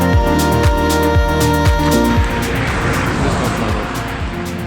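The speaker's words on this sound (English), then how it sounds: "The car's noisy." A noisy car engine on an African road trip, loud and steady, with a droning tone that pulses in a regular rhythm before giving way to rougher, broader road noise.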